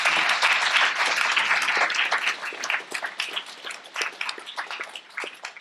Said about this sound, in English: I think they all deserve a round of applause for their answer.